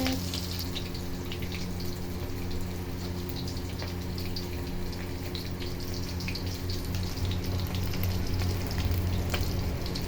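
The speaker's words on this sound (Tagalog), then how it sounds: "ang ating sinasarsyadong isda ay piniprito muna natin" Fish sizzling as it fries crisp in hot oil, a steady dense crackle and hiss that fills the whole stretch, close and constant without breaks.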